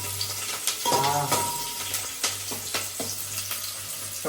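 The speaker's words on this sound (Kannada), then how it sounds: "ಸೊ ಈಗ ಆನಿಯನ್ಸ್ ಹಾಕೋಣ." Onions dropped into hot oil for chicken biryani, frying with a steady crackling sizzle close by, stirred now and then with soft scraping clinks and knocks against the pan.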